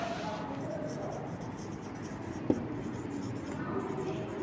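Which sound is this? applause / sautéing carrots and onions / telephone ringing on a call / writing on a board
writing on a board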